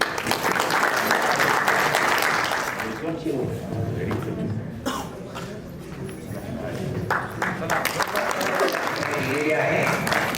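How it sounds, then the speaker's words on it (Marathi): Audience applause at a felicitation event, a loud sustained burst of crowd clapping that thins in the middle, mixed with voices, then swells again toward the end. "टाळ्या वाजूया."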